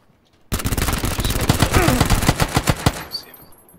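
Loud rapid bursts of unsuppressed gunfire in PUBG ring out at close range for about two and a half seconds, the shots cracking in a quick rhythm before trailing off into quiet.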